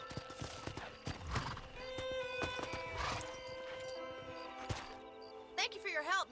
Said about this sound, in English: Well, time to go hitch a horse.